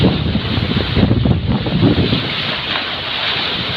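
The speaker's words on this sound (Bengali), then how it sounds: "প্রচণ্ড ঢেউ উঠেছে" Strong waves churn on the Padma river at Mainot Ghat during Cyclone Remal, a loud continuous roar of surf and wind buffeting the microphone, steady throughout with no voices.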